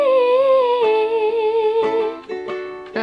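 Ukulele picking out the chorus melody of a song, with clear, ringing notes that change every half second or so and sustain over one another, close and fairly loud, no voice.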